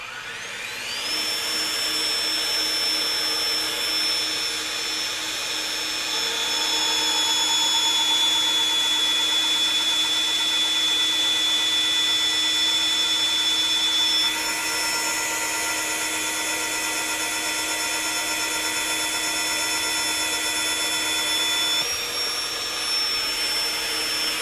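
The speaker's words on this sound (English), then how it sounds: "We've already drilled through that 3/8 inch thick at 1 3/8 diameter." A FEIN Slugger MagForce 90 magnetic drill bores a 1-3/8 inch hole through 3/8 inch thick steel, a loud steady motor whine with a high cutting tone that holds for the whole stretch, swelling midway and dipping briefly near the end.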